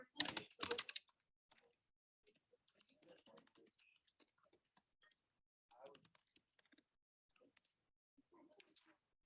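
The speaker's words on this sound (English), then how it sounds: "Okay, so while I am typing these" Typing on a computer keyboard in a classroom, quiet scattered key clicks in uneven bursts after a louder thump or two at the start, faint and close.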